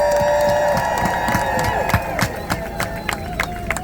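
A crowd at an Alzheimer's advocacy rally at the White House cheering and clapping, with scattered claps and whoops over a steady roar of voices and a few higher tones on top.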